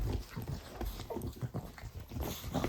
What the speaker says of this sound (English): The dogs know they've been waiting.